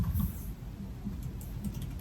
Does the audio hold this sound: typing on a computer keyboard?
yes